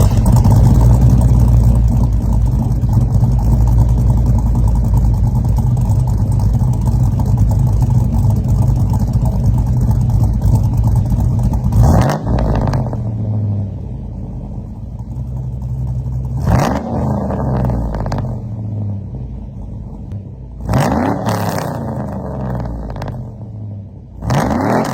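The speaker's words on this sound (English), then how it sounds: "a cam 6-liter, stock manifolds, a catless Y-pipe, and a Speedy Sport muffler" A cammed 6.0-liter Chevrolet Silverado short bed with stock manifolds, a catless Y-pipe and a Speedy Sport muffler idles with a loud, choppy rumble, then blips the throttle three times in sharp revving bursts that drop back to idle.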